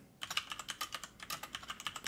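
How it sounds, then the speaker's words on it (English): Quick, close keystrokes on a computer keyboard patter in a steady, slightly irregular rhythm as a spreadsheet tracking list is typed at a pen show ink testing station, with no voices. "so I'm just gonna type"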